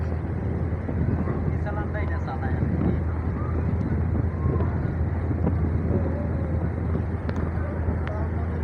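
Passenger launch MV Torongo 7 cruising at speed toward Dhaka, giving a steady droning engine hum and rushing water and wind noise that stay constant throughout, with no clear speech.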